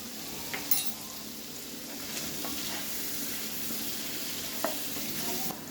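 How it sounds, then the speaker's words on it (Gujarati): Paneer shallow fries in a pan for paneer butter masala, a soft steady sizzle with a few faint utensil taps and scrapes, no voices. "પનીરને તમારે થોડું શેલો ફ્રાય કરી લેવાનું છે"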